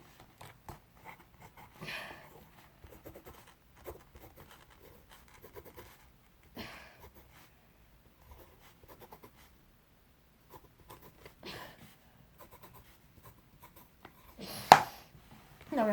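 Pencil scratching in a phonics workbook, quiet short bursts of writing separated by pauses, with a sharper louder scrape near the end.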